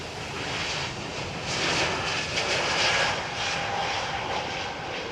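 Airbus A321neo jet airliner at London Heathrow runway 27R, a broad engine roar that swells and fades in gentle waves, moderately distant, alone without voices.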